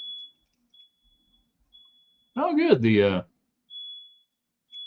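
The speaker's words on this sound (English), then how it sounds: "smoke alarm is going off in my house" A high electronic beep from a smoke alarm in a broadcast studio sounds repeatedly at regular intervals, with a person speaking briefly in the middle.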